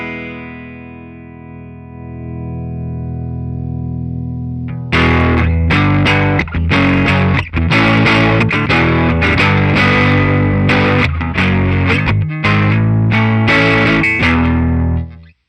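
A held, fuzzy guitar chord rings out and swells, then heavily distorted electric guitar plays loud, choppy chords and riffs through a speaker.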